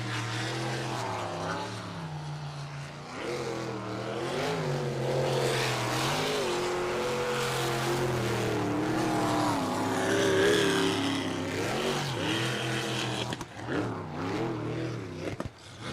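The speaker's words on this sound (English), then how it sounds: "This boat engine you can hear throughout the 11th Peninsula." An ASBR pro racing boat, the Meaner Machine, runs a qualifying pass at Port Angeles, Washington, its engine roaring steadily and rising and falling in pitch for a sustained stretch, heard from a distance.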